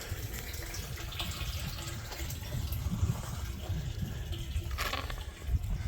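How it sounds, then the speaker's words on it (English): Leftover water trickles and splashes out of a pipe after the pump of an aquaponics Dutch bucket system is switched off, a steady close-up pouring and dribbling sound with no talking. "Pump turned off, and then just the residual water left in the pipe will drip out."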